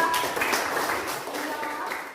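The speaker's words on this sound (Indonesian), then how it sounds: "tepuk tangan untuk teman yang sudah" A classroom of students applauds a classmate who answered a question, a brief, dense patter of many hands filling the room at moderate volume, with voices blending into it.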